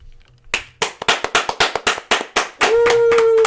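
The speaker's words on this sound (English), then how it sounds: "You had to clap that hard." Hard hand clapping, about a dozen sharp, loud claps in a quick, slightly uneven run, followed by a sustained tone.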